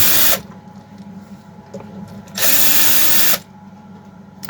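A power tool whirs in two sustained bursts, one at the start and one near the end, while screws are being removed from the carburetor of a Chinese-made petrol brush cutter, with quieter mechanical handling between the bursts.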